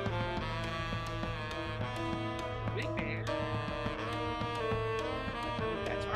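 A big band jazz recording plays back, with dense brass and rhythm section filling the sound continuously but fairly quietly, as if from a speaker in the room, with no talking over it.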